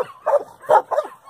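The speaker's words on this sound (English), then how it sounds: "We're going to walk right by all these barking, noisy dogs." Large dogs bark in short bursts, three loud barks in quick succession close by, with a slight whimpering edge and no talking over them.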